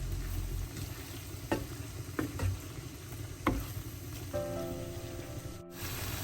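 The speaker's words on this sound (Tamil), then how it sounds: "சேர்த்துட்டு ஒரு கொஞ்ச நேரம் இதை இப்படியே வதங்க விடுவோம்." Prawn curry with tamarind sautéing in a pan, a soft steady sizzle with a few sharp clicks of a utensil against the pan.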